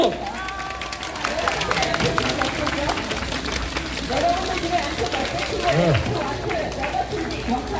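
A large outdoor protest crowd at a weekly Wednesday rally in Korea claps and cheers continuously to welcome a union committee chair to the stage, a steady wash of applause and hubbub with a voice talking over it.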